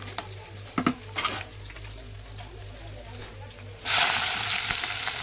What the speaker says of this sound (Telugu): ఎర్రగడ్డ, కరివేపాకు, 2 ఎండుమిర్చి వేసుకొని బాగా ఫ్రై అవ్వాలి.